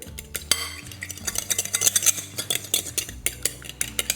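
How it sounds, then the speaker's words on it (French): Eggs beaten in a bowl set on a small towel, utensil clinking and scraping rhythmically against the bowl in quick repeated strokes, close and fairly loud, with no talking. "là, on va mélanger les œufs."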